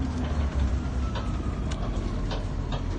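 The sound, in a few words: riding inside an MTA city bus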